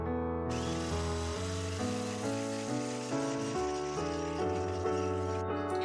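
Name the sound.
electric whisk beating meringue at high speed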